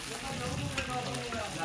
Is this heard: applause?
no